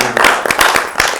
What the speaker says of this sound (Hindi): सब जोड़ों के लिए जोरदार तालियां